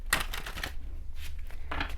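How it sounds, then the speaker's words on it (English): Gilded Tarot Royale cards are shuffled in a few quick riffling bursts with short pauses between them, close and fairly quiet, with no talking. "Let's do an initial shuffle."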